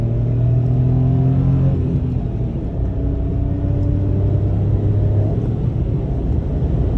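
A 2022 Mitsubishi Mirage G4 ES with a manual gearbox accelerates at full throttle, its small engine a steady, loud droning rumble heard from inside the cabin, the tone climbing gradually as it pulls.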